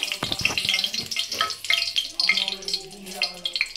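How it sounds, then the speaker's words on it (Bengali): Whole dried red chillies, bay leaves and cumin seeds crackle and sizzle in hot oil in a kadai, a close, busy spitting that runs on with a few knocks at the start. "এবার আমি ফোড়নের জন্য এর মধ্যে 2 গোটা শুকনো লঙ্কা, 3টে তেজপাতা,"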